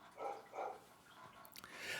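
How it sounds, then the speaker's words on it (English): Dogs barking in another room: two muffled barks close together followed by fainter yips, soft and distant. "You'll hear my dogs barking in the background."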